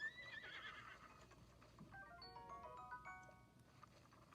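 Horse whinnying in Zelda Breath of the Wild, a faint descending call near the start followed by a wavering whinny toward the middle, over a soft background hum.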